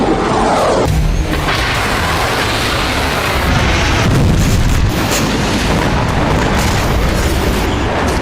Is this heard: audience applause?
no